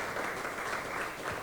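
A crowd at an opening speech applauds in a dense, steady wash of clapping that sounds somewhat distant and subdued throughout.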